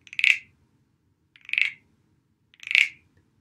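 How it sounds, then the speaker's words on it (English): A small wooden frog guiro, the baby frog, scraped three times in a slow, evenly spaced rhythm, each stroke a short, high-pitched ratcheting croak, close and fairly quiet with silence between. "Let's see what the baby frog sounds like."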